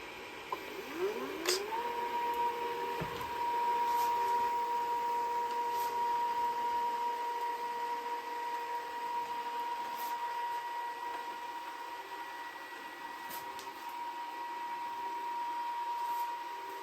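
An edge banding machine runs steadily as edge strip is fed onto a desk panel in a woodworking shop, giving a continuous mechanical whir and hum with a sustained tone and a few faint clicks throughout, fairly close and without speech.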